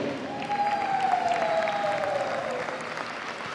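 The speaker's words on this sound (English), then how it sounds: "Round of applause" A crowd claps steadily at a youth handball opening ceremony as the coach of the West team is introduced, a continuous wash of applause with a faint tonal whistle running through it.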